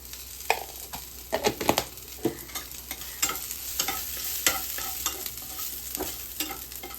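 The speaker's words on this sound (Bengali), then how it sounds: "পেঁয়াজটা রোস্ট হয়ে যাওয়ার পর পেঁয়াজের মধ্যে আমরা 1 চামচ নুন দেবো" Roasted onions with a little salt are stirred in a pan, a spoon scraping and tapping in irregular quick strokes over a faint, steady sizzle, fairly quiet and with no talking.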